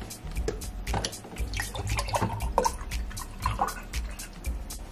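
Tropical splash juice is poured into a glass, giving a close, trickling liquid splash with small drips and clinks, moderately loud with no talking.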